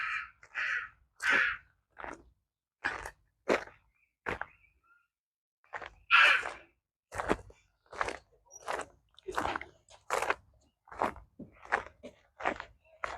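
Someone mimics a crow, repeating short harsh caws in an uneven series, fairly close and loud, with brief pauses between calls.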